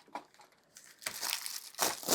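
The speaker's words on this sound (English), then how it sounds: "Let's see if I can get it started so I can rip it." Perforated cardboard packaging for a Kuretake granulating watercolor set is torn open. Faint crinkling comes first, then two louder, close ripping bursts of paper and card.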